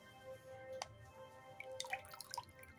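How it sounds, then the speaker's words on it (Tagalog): A small splash of fish sauce (patis) goes into a pot of beef bulalo, heard as a few quiet, brief liquid drips and trickles close by in a calm kitchen. "So lagyan din natin ng konting patis."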